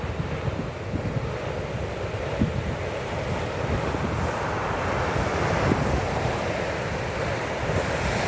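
Ocean surf rolls steadily on a cold, windy winter morning where surfers are out, with wind buffeting the microphone in a constant low roar and no talk.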